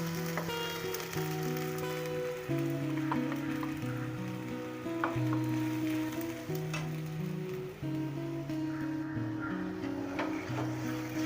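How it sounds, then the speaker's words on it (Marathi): Masala roasts in a pan over a low gas flame while a steady soft sizzle and faint crackle run throughout, with a sustained tonal hum beneath and occasional light stirring ticks, close and unbroken. "स्लो गॅसवर मसाला चांगला भाजून घेऊ आपण आता।"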